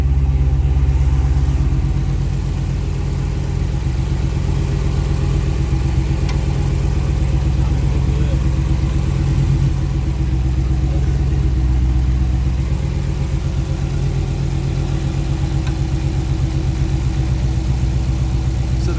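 Car engine with a Proflex Commander flex-fuel kit idling steadily on E85 with no misfire, a loud, even, continuous rumble close by with no talking.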